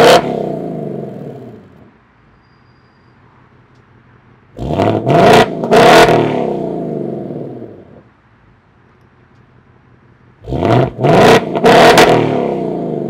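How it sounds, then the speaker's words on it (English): A 2024 Ford Mustang Dark Horse V8 revved twice through its exhaust modes, each burst a loud sharp climb and drop with a short blip, separated by a quiet idle. "do a little bit of gratuitous revving so you can"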